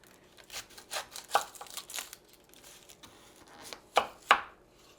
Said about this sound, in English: I'm gonna cut a white onion